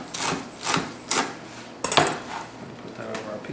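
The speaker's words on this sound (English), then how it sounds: "So we're going to chop that up." Bacon, fresh out of the pan for a BLT pizza, chopped with a knife on a board: several separate knocks and scrapes, close and fairly quiet, with a sharper cluster of hits near the middle.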